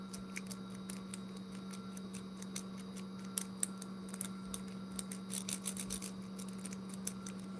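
Faint, irregular metallic clicks and ticks from a pick setting pins inside a Master Lock 141 padlock, close up over a steady low electrical hum.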